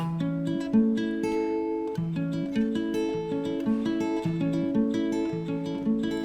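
An acoustic guitar plucks a steady, repeating fingerpicked pattern of single notes, clear and close, with no voices.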